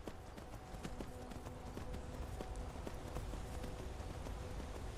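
Horse hooves clip-clopping steadily in the Skyrim video game, a continuous rhythmic trot of sharp hoof strikes over a low ambient bed, close and moderately loud.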